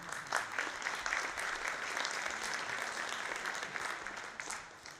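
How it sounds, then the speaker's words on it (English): An audience at the ng-India 2022 Angular conference talk claps in steady, dense applause that holds at an even level for about five seconds, without speech over it. "give a round of applause to me"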